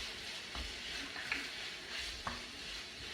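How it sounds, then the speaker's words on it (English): Vegan Jamaican patty filling of jackfruit and spring onions being stirred in a hot pan, a soft continuous sizzle with a few scraping spoon strokes against the pan, close and steady. "give that a good stir"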